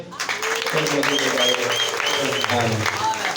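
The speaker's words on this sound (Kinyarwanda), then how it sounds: "Tukomeye amashyi kubikoze." A church congregation at a Rwandan healing service claps in a sustained burst of applause, heard under a loud voice that continues through it.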